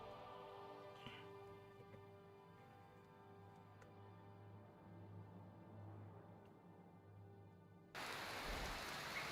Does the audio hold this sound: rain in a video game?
yes